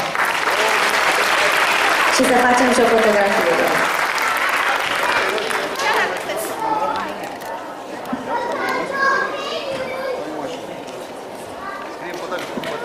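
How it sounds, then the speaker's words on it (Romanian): An audience at a premiere applauds for a named group of performers, a loud, dense patter of clapping up front that gradually thins, with voices chattering over it. "Să le aplaudăm"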